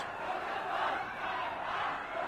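A crowd shouting abuse and curses at police, a dense continuous roar of many voices at a distance, steady and moderately loud with no single voice standing out.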